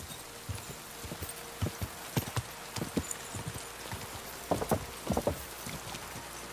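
Horse hooves clip-clop at a quick pace in a medieval Bohemia video game, with irregular bursts of hoofbeats over a steady ambient hiss and faint rain-like patter; no talking.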